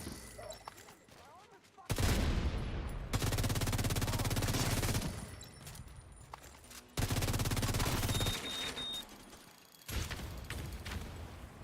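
Video game gunfire in rapid bursts, dense loud volleys that start and stop abruptly several times with short quieter gaps between.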